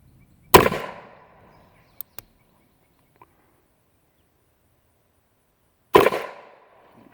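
A Colt Official Police .38 Special revolver fired single action, two loud sharp gunshots about five seconds apart with ringing decay, separated by faint clicks of cocking the hammer.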